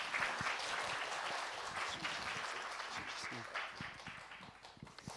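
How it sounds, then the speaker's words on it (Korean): A church congregation at a Sunday worship service in Melbourne claps in welcome as the pastor comes forward, a dense, steady wash of applause from many hands that holds loud throughout. "우리 목사님 나오실 때 박수로 한번 환영하도록 하겠습니다."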